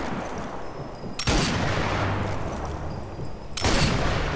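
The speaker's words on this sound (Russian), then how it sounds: "три выстрела всадил в этого урода" Two sharp gunshot blasts in the World War II sniper video game Sniper Elite 4, each with a booming decay, heard alone over steady in-game background ambience.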